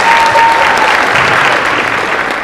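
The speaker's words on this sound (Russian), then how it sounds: "Давайте похлопаем ему" An audience at a KVN comedy contest applauds loudly and steadily, with dense clapping filling the whole moment and fading slightly toward the end.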